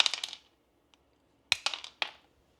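Freeze-dried Jolly Rancher candies are cut with crisp crunchy snaps in two quick bursts of several close, sharp crackles, with a lone tick between and no talking.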